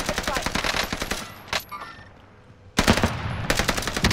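Rapid machine-gun fire in a first-person shooter video game rattles in dense bursts close by, breaks off for about a second, then resumes just as loudly, with a player's voice heard briefly.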